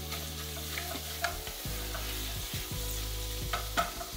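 Sausage browns in a hot pan for butternut squash pasta, a steady close sizzle with occasional scraping stirs, no voices.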